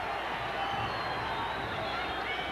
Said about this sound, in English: The crowd, the Dave Tiberi crowd here, coming from nearby Delaware, is on their feet